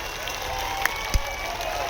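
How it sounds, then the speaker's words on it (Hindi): A brief wash of crowd applause at a political rally in Darbhanga, India, steady and somewhat distant, with many hands clapping together. "एक बार जोरदार तालियां बजाओ"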